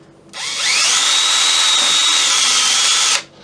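A hand drill bores through the barrel of a Kibler colonial flintlock rifle kit, a steady high whine that rises in pitch as it spins up, holds for about three seconds, then stops abruptly.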